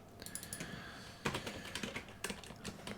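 Rapid typing on a computer keyboard: a string of light, close plastic key clicks in uneven bursts, with a louder flurry partway through and no voices.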